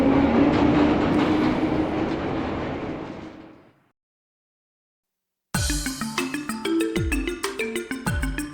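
A train moves in the video game Trails from Zero, giving a dense rumble that fades into a few seconds of silence. A rhythmic clattering of rapid, regular beats then starts up loud and close, with no talk.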